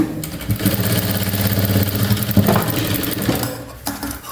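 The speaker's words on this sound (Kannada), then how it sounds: "ಇದಕ್ಕೆ ಡಬಲ್ ಸ್ಟಿಚ್ ಒಂದು ಹಾಕೋಣ" A sewing machine runs a double stitch on a half-shoulder blouse, a fast rhythmic mechanical rattle up close, steady for a few seconds before slowing and stopping.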